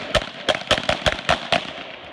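Revolver shots in a shooting drill, seven sharp loud reports fired in a quick, fairly even string at close range.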